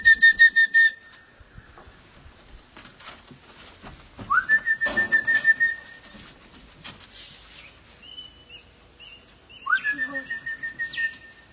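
A person whistles to call parrots outdoors, giving three bursts of rapid, trilling whistles that slide up and then pulse, loud and close, separated by quieter gaps with faint background noise.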